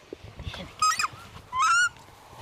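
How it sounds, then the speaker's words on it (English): Young takahē birds giving two short, harsh honking calls as they are caught by hand and boxed, close and fairly loud, with handling rustles and quiet background noise in between. "Ranger Glenn Greaves is catching 2 young Takahē and putting them carefully into travel boxes."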